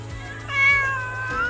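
Cats meow at a shelter housing hundreds of abandoned cats, a close, clear meow rising and falling over a steady low hum, with a second cry starting near the end.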